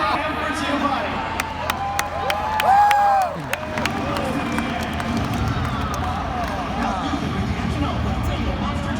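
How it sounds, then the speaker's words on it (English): Audience at a Monster Jam show cheering and applauding: dense clapping and crowd roar with whoops and whistles that swell briefly and stay loud throughout. "So let's get a nice big round of applause for Nico and for Giovanni."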